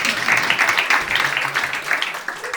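A comedy club audience in Paris breaks into loud, dense clapping that rolls on continuously for a couple of seconds, close and lively.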